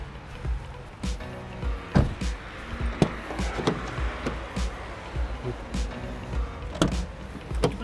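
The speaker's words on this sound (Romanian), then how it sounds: "Ilie, te provoc să deschizi uși la mașini" Car doors being opened and shut around parked cars, a series of sharp clunks and latch clicks scattered across a few seconds, fairly faint, with people talking in between.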